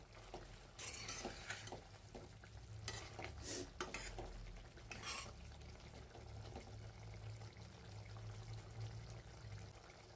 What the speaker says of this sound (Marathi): एकदा शेंगा आणि बटाटे ढवळून घेऊया।